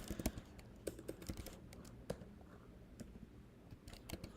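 Keys tapped on a computer keyboard at a quiet desk, an irregular run of soft clicks with occasional sharper strokes, faint and close, with no speech.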